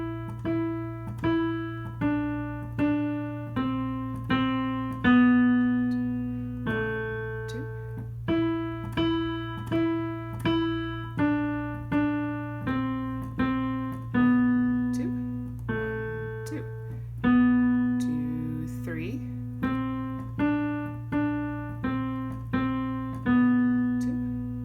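Piano playing a lesson-book piece slowly, evenly spaced single notes and short phrases with clear decays over a sustained low drone, unhurried and moderately quiet throughout.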